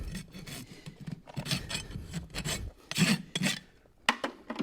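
A rasp files the burrs off clinched horseshoe nails, giving quick rough scraping strokes in short irregular bursts, close by but fairly quiet, with no voices.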